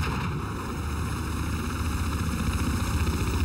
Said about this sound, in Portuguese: É o helicóptero dele.